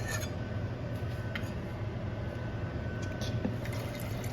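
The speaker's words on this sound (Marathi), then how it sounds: "थोडंसं अजून टाकूयात आपण पाणी" Water poured into a pot of thin sambar on a home stove makes a steady, close liquid fill with faint drips and splashes, continuous and moderately soft throughout with no talking.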